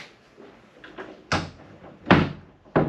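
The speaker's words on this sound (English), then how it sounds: "so I could close the door here" A wooden door on a restored boat being closed, giving several sharp knocks and thumps close by, with quieter rustling between them.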